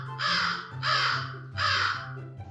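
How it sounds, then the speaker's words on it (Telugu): A crow caws three times in an even rhythm, each call harsh, loud and close, with short pauses between them and no talk. "తన గొంతుతో పాట వినిపించాలనే ఉద్దేశంతో కాకి తన ముక్కు తెరిచి"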